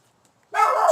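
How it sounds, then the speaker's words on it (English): Dogs bark suddenly and loudly after a near-silent moment, a dense burst of barking that sounds close and carries on to the end. "the dogs are going haywire since I'm talking about this"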